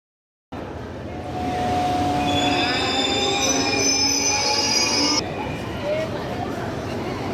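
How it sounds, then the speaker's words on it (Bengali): A train pulls into the station at Santiniketan, its wheels squealing in long, high, overlapping screeches over a heavy rumble. Crowd babble and voices carry on the platform nearby, and the screeching cuts off abruptly, leaving the rumble and chatter. "আমাদের ট্রেনটা সবে স্টেশনে ঢুকছিল"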